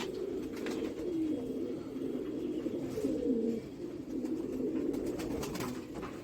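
Tonk pigeons coo in steady, overlapping low calls, close and continuous, with a few soft chirps and no talk.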